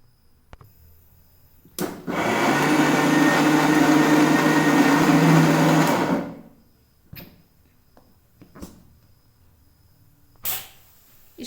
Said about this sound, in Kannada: ಇದನ್ನು ಹಾಕ್ಕೊಂಡು ಸ್ವಲ್ಪ ನೀರು ಹಾಕ್ಕೊಂಡು ಮಿಕ್ಸಿ ಮಾಡ್ಕೊಳ್ಬೇಕು.